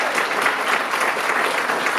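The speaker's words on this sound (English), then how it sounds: "give them a big round of applause" A theater audience at a world premiere applauds the actors, a loud, dense, continuous burst of clapping with no voices over it.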